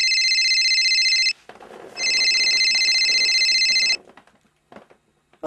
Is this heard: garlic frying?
no